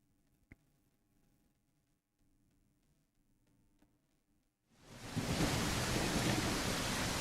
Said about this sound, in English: Ah, the lovely rain at 2:30 in the afternoon.